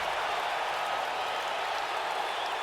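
Arena crowd cheering during a WWE 2K19 wrestling match, a steady wash of roaring voices and scattered applause that stays loud and unbroken for the whole stretch.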